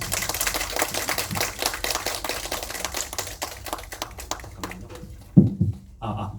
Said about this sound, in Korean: 그럼 이상민 선생님을 큰 박수로 모시겠습니다.